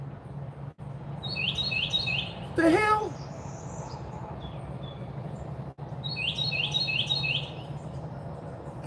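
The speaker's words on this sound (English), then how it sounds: "doing his little bird call in the fireplace thing so it's louder" A bird calls from inside a fireplace, its chirps echoing and loud in two bursts of repeated tweets, with a squawk between them and a person briefly speaking over a steady background hum.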